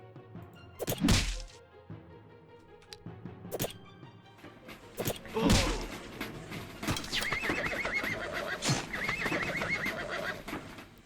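Horse neighing in the fantasy strategy game Eador Genesis, two loud whinnies with clip-clop hoof thuds between them, then a longer drawn-out neigh trailing off, no talk over it.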